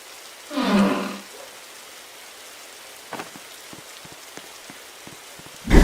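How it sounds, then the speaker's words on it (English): Rain falls in the Roblox game 99 Nights in the Forest, a faint, steady patter behind a loud roaring burst near the start and a sharp thump at the end. "There I was, in the rain"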